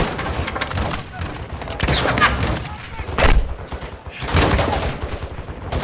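Gunfire rattles through a Call of Duty Modern Warfare 2 campaign battle in loud, repeated volleys and heavier bursts, with voices talking over the shooting throughout.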